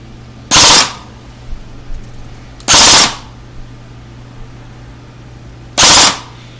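A G&G RK47 blowback airsoft AEG fires three loud, sharp bursts of full-auto fire, each under half a second, separated by pauses with faint mechanical clatter in between.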